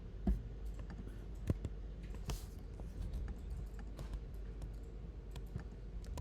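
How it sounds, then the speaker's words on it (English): Typing on a computer keyboard in a quiet room, quick irregular key clicks and taps scattered throughout at low level, with a few louder strokes standing out. "I'm typing and it's not doing anything"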